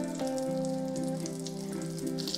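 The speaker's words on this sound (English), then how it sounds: "I can hear that sizzle already." Steady crackling sizzle of squirrel meat frying in hot oil, continuous and close, with a faint low hum underneath.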